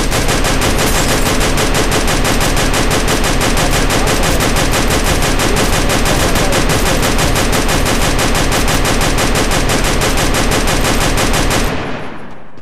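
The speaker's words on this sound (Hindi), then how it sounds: "इस गन का मज़ा यही पे आता है गाइज यार नॉन स्टॉप फायर करते रहो" Nonstop automatic gunfire from a gun in the mobile game Free Fire, a loud, relentless rapid stream of shots running for over eleven seconds before cutting off abruptly.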